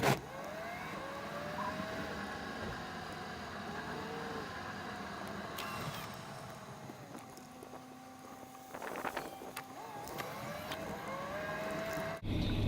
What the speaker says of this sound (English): I'm going to drive up here to the gate, get in